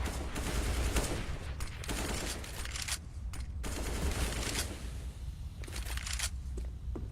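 Gunfire in a Counter-Strike match on de_cobblestone, rapid rifle bursts and repeated shots in clustered volleys, loud and close, separated by brief lulls.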